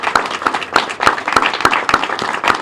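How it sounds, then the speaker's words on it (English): A small group claps steadily, a sharp, even patter of hands that carries on without a break. "Yes, let's clap for them."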